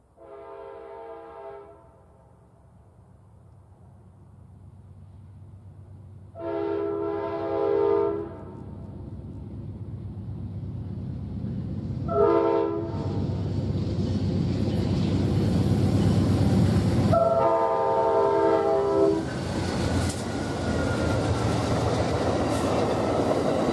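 A train horn sounds in several long blasts while Amtrak's westbound Southwest Chief, led by a P-42 locomotive, rumbles closer and roars past a crossing in Bernal, New Mexico, the noise growing steadily louder.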